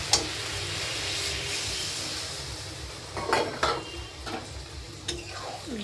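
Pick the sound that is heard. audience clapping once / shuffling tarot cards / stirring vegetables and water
stirring vegetables and water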